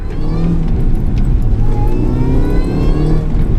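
A modified 220 BHP Mini Cooper S on a country driving road, its engine a loud close rumble under steady acceleration with tyre and road noise, no talk.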